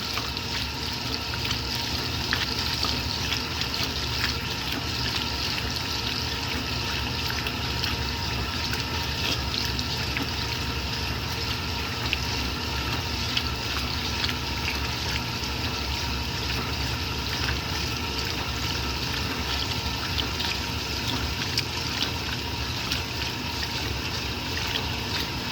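A 1964 Speed Queen A49 washing machine rinses work pants with overflow rinsing, giving a constant rushing, sloshing water noise with a low mechanical churn, steady and close for the whole stretch with no speech.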